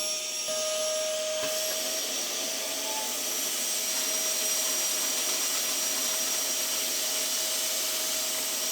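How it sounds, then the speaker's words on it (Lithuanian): A vacuum cleaner runs at a steady, loud whine, sucking up water during an OMC 235 repair, with no talking over it. "Reikia jungti pirmiausia siurblį."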